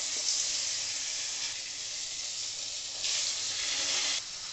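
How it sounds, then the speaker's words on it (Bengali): Fish rubbed with salt and turmeric fries in mustard oil with a steady, close sizzling hiss that swells and eases in two waves, with no voices. "এবার আমি হালকা করে একটু ভেজে নেব। আমি সর্ষের তেল দিয়ে দিয়েছি মাছটায়।"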